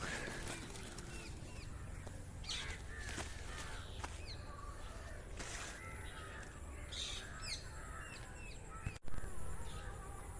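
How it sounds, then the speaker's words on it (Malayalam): Parrots screech near a bean crop, with sharp, scattered calls ringing out faintly at a distance over a steady outdoor hiss. "തത്തയൊക്കെ കിടന്ന് ഭയങ്കര കരച്ചിലാണ്"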